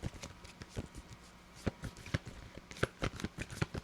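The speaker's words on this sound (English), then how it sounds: "Shuffle them up a little bit." Tarot cards shuffled by hand during a live reading, giving a run of soft riffling bursts and sharp flicks at irregular intervals, fairly close and clear with no talking over them.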